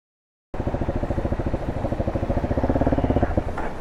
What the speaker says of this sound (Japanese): あのハンドルをね左に切るとエンジンが止まっちゃうっていう、 症状が出てたんですよ。